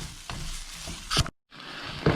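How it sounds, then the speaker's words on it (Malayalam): Garam masala and spice paste being sautéed and stirred in a pan for coriander chicken biryani, with a soft steady sizzle broken by a few sharper scraping strokes and a brief silent gap, no talk. "ഒന്ന് ചൂടായി വന്ന മസാലയിലേക്ക് ഇപ്പോൾ ഗരം മസാല ചേർത്ത് നമ്മൾ നല്ലോണം വഴറ്റി കൊടുക്കുകയാണ്"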